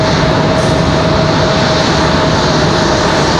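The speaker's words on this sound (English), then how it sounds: "We already have Republic Airways coming in, American Airlines, Republic 4596 coming in from Nashville, Tennessee." A Republic Airways airliner arriving at Raleigh-Durham from Nashville gives a loud, steady, broadband roar with a faint whine through it. The sound holds even throughout, with no talk.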